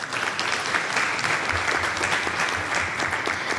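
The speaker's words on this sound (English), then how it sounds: "I would love to ask us to just give them another round of applause." An audience at the Wealth Woman Summit Malawi 2021 gives presenters a full, continuous round of applause, dense and steady with no talking over it.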